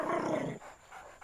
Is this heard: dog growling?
yes